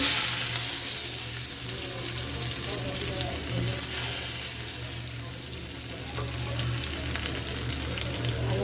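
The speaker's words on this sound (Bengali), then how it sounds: "জিরা দিয়ে বাগাচ্ছি ডালটা" Dal being tempered with cumin, dried chilies, chopped garlic and onion in hot oil, giving a steady broad sizzle throughout with low background hum and faint stirring.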